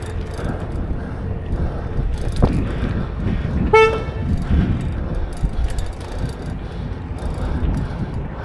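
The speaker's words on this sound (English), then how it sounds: "That car locking itself right there while honking" A car's horn gives one short toot as it locks itself on a city street, heard against steady traffic and engine noise, moderately close and brief.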